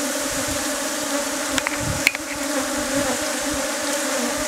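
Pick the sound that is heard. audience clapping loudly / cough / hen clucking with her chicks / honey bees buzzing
honey bees buzzing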